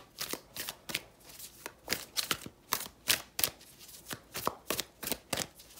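A tarot deck is shuffled in a steady run of crisp riffling bursts, a dozen or more quick card flutters close up with no voices over them.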